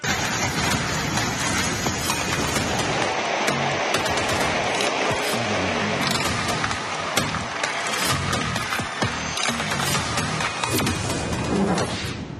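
Steady rain in Bangalore during a third day of heavy downpours and flood fears, a dense continuous hiss of drops on surfaces with scattered sharper patters, loud and unbroken throughout.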